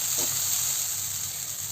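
Chopped spinach hits a hot pan for a spinach and dal thoran, a steady bright sizzle and hiss with a brief soft rustle near the start.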